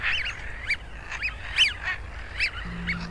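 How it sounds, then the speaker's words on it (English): Icelandic wigeon, small dabbling ducks, give repeated kazoo-like whistling calls in an irregular series of about eight notes, fairly close over a soft low background rumble. "the kazoo-like calls of Icelandic widgeon"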